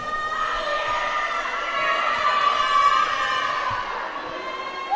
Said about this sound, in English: Easy to create a lot of noise here in this gym, but cheering on their Lady Bulldogs